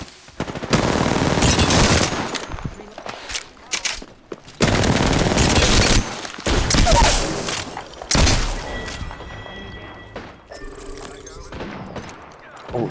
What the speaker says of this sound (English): I'm getting sniped from 2 different people